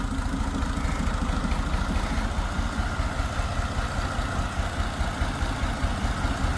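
A tractor engine idles with a low, steady chugging rumble, constant and moderately loud throughout, with no talking.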